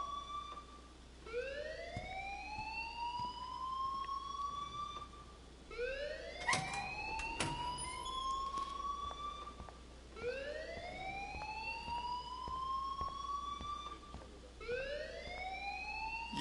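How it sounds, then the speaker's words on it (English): An alarm from the video game Life is Strange sounds in a loud, repeating series of rising electronic whoops, each sweep climbing steadily before restarting, with a brief burst of clatter partway through. "please turn off that alarm since that's your job"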